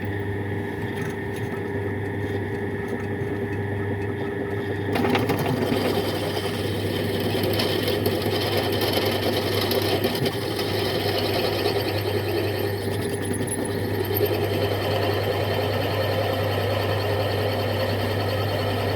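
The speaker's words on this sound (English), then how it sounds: "drills alright." Power drill boring holes into a cast steering box during a Nissan Terrano/Ford Maverick steering box modification, a steady close whirring motor drone that grows louder and rougher as the bit bites in partway through.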